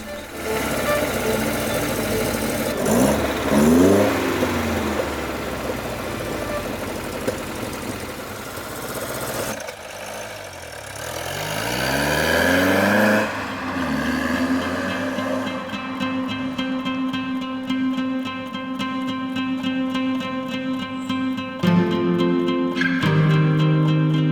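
Classic Opel GT fitted with Weber 48 carburettors driving and revving, the engine note rising and falling through several pulls with gear changes, then settling into a steady drone with a clear mechanical hum.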